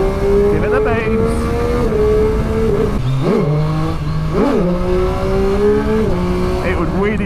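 2020 Triumph Street Triple RS motorcycle accelerating hard, a loud, close engine drone climbing in pitch through quick gear changes with short dips between shifts, wind rushing throughout and a rider's voice partly under it.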